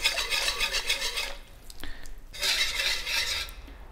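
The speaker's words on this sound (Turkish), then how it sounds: "İyice karıştırdım." A spoon stirs Turkish yogurt soup with meatballs in a pot, scraping and clinking in two bursts of steady stirring separated by a short pause with a light tap against the pot.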